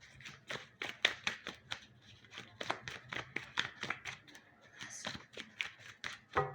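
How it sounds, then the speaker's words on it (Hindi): Tarot cards get shuffled by hand, a rapid run of crisp riffles and flicks repeating steadily, close up and soft, with no voice over them. "last shuffle"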